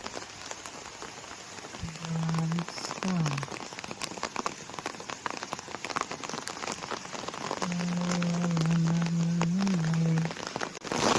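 Heavy rain falls steadily on a flat rooftop terrace as a dense, close patter that grows louder toward the end, crossed by two long sustained horn-like tones.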